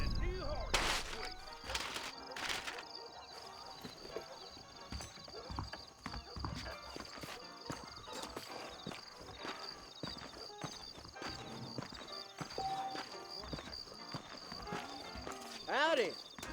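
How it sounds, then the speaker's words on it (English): Horse hooves clip-clop steadily in the game Red Dead Redemption, moderately close, while someone talks over them and a horse whinnies briefly near the end. "I'm getting a new horse."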